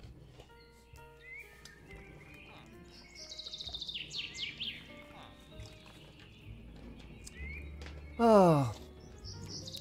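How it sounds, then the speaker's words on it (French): Birdsong plays in a survival video game: light chirps and twittering trills over a soft ambient bed, followed by a loud descending horse whinny, while a voice speaks briefly. "Qu'est-ce que c'est sympa, ces petits sons d'oiseaux et tout, j'adore."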